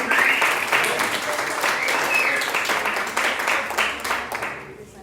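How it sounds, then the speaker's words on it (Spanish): A church congregation applauding the Lord during a sermon, dense sustained clapping from many hands that stays loud and fairly even before fading out at the end. "denle un aplauso al Señor"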